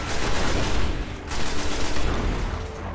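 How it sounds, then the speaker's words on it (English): Rapid automatic gunfire from an auto rifle in the Destiny video game, a loud sustained burst of shots with a brief gap near the middle, heard alone without talk. "This auto rifle is pretty good."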